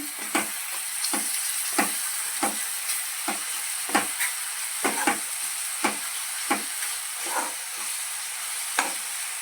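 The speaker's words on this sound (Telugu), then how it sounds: "ఇప్పుడు దీంట్లో పచ్చిమిర్చి, అల్లం వెల్లిపాయ పేస్ట్, కరివేపాకు రెబ్బలు వేసుకొని కలుపుకోవాలి." A spoon stirs green chillies, ginger-garlic paste and curry leaves in a hot pan, scraping in regular strokes about every half second over a steady sizzle.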